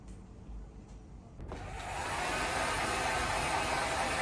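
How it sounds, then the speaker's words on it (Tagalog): A faint rustle gives way to a loud pet blower switching on to dry a dog's fur after a bath, running with a steady whooshing hiss that builds and holds. "Blower na, blower time. JJ, it's blower time."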